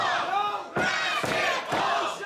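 A professional wrestling crowd at a WFA Reborn women's falls count anywhere match roars in loud, rhythmic chant-like bursts, about three surges in quick succession.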